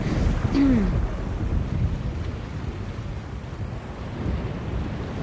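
A stormy sea in The Longest Journey video game, with steady surging waves and gusting wind roaring continuously around a boat, a brief creaking tone near the start.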